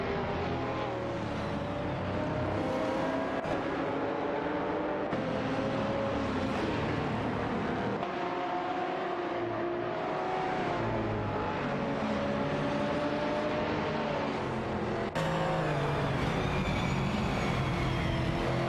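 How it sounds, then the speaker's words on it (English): Race cars zoom past in a simulated racing broadcast, a continuous loud engine roar with rising and falling pitch sweeps as vehicles pass and a sudden change near the end, with no talk. "enjoy the race cars zooming by"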